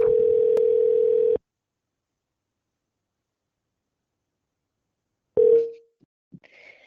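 A telephone dial tone hums as a steady, loud single-pitch tone for just over a second while a phone call is placed, then silence, then a short burst of tone cut off by faint clicks.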